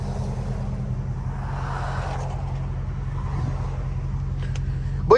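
A Dodge Hellcat cruises through city streets, its engine a steady low rumble heard from inside the car, with a faint rise near the end and no talk.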